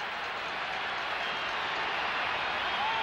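Dense, steady roar of a large football stadium crowd at a West Virginia home opener, filling the whole stretch at an even level with no breaks.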